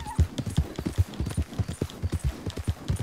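A horse's hooves clip-clop in a quick, steady riding rhythm while galloping in Red Dead Redemption 2, loud and close with no talk over them.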